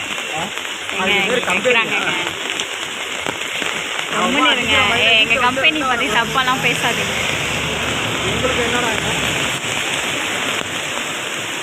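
Heavy rain pours steadily in Chennai as a dense, loud hiss throughout, with people talking over the downpour for most of its length.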